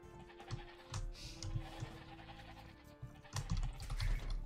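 Sheep bleat faintly in a strategy video game with Briton scouts, mixed with soft game effects and clicks, and no voices.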